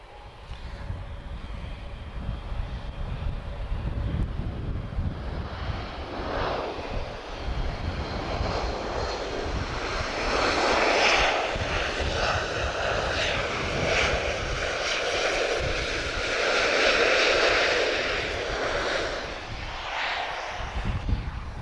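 A Retrojet airliner departs Lisbon Airport, its engine roar swelling and rolling steadily across the whole stretch, heard from a distance with wind buffeting the microphone.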